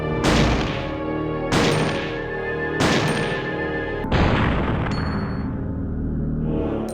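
A Franchi SPAS-12 shotgun fires in Resident Evil Survivor 2: five loud, booming blasts at a slow, even pace about every 1.3 seconds, each decaying into a ringing tail, with no pump-action sound between shots.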